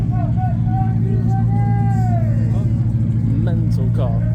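A white-and-black Koenigsegg Agera supercar with a straight-piped V8 revs outdoors at a supercar show, a loud engine roar with a rising sweep under crowd chatter and someone talking.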